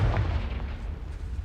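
Confringo, a fire-blasting spell cast in the video game Hogwarts Legacy, a single heavy booming blast with a deep rumbling burst that fills the short moment, with no talking.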